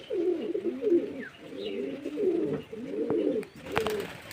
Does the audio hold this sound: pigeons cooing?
yes